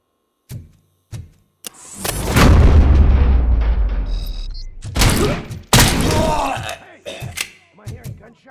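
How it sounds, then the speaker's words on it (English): Bursts of heavy gunfire and booming blasts from the video game RoboCop: Rogue City, loud and close, with scattered single shots before and after two long dense volleys. "Am I hearing gunshots?"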